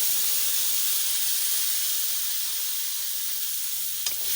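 Spices frying in a pan of oil for a mushroom dish give off a steady, close sizzle and hiss that runs unbroken throughout. A small clink sounds near the end.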